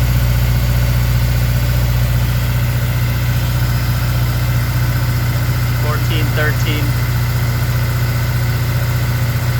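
A Honda S2000 AP1 idles steadily with a low, even hum; the engine has an ELD P1298 fault and misfires once warm. A person talks over the running engine throughout.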